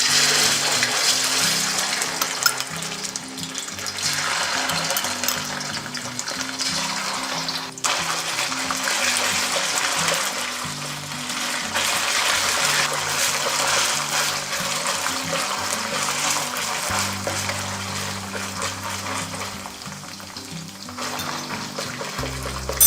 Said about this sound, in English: now add tomato paste